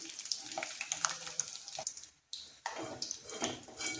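Masala chickpeas (kadalai) fry in hot oil over a low flame with a steady, close crackling sizzle, broken by one brief quiet gap before resuming.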